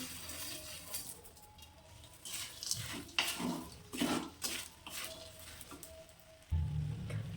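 Fried edible gum and mawa stirred and roasted in a pan, with soft scraping strokes of a spoon and faint sizzling, quiet and close, with a few louder clatters.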